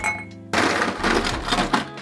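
Ice cubes tumble into a wine glass for a non-alcoholic mocktail, giving a sudden burst of clinking and rattling up close that settles over about a second and a half.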